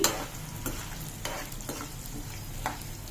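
Fenugreek, coriander seeds and chana dal, with urad dal and cumin, frying in a pan for gongura pachadi: a steady sizzle broken by several sharp stirring scrapes, close and with no voices.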